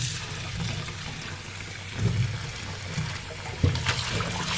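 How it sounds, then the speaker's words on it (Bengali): Malabar spinach (pui shak) leaves are rinsed by hand in water, with close splashing and sloshing that swells in a few brief surges amid steady trickling. "সমস্ত পুঁই শাকগুলো ধুয়ে নিচ্ছে অনেকক্ষণ ভিজিয়ে রেখেছিলাম তারপরে আর কি ভালো করে ধুয়ে উঠিয়ে নিচ্ছি"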